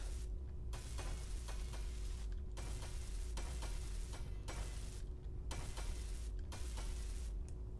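Blocks being welded in the space-building video game Space Engineers, a steady faint crackling hiss with a low hum, broken by periodic brief pauses, with no talk.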